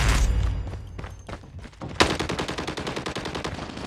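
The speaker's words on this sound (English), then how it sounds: "Sentry gun deployed." A Call of Duty sentry gun opens fire in rapid sustained automatic bursts, loud and continuous, with battlefield thumps and clatter underneath.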